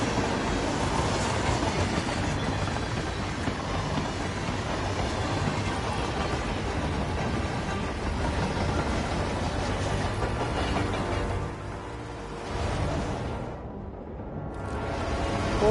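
A train rides along its tracks in the video game Hitman 3, a steady loud rumble with rail clatter throughout, easing briefly near the end before swelling again.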